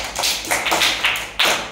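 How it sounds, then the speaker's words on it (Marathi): A small group of schoolchildren and adults at a Zilla Parishad school in Pangaon claps for a boy named Sultan. The handclaps are close and uneven, in a few separate bursts, with the last one a little louder. "अरे बाप, टाळ्या वाजवा एकदा सुलतानसाठी।"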